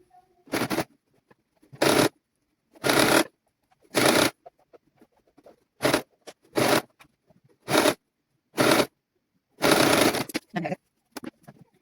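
Sewing machine stitching the waistband band of a child's garment in a tailoring class, running in about nine short, even bursts separated by brief silences, close and clear.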